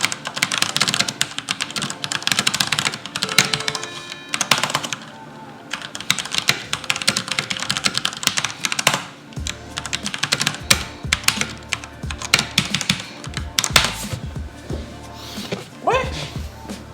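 Rapid, clattering keystrokes on a budget mechanical gaming keyboard, close and loud in irregular bursts with brief pauses, a dog faintly audible in the background.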